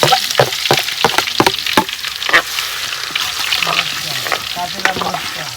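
Garlic frying in hot oil, a steady crackling sizzle with sharp clicks of stirring against the pan throughout, loud and close with no talking.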